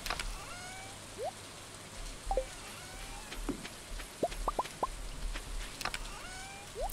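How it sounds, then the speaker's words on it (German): Steady rain hisses across a Stardew Valley farm, a soft continuous patter with a few short chirping game sounds scattered over it. "Es regnet."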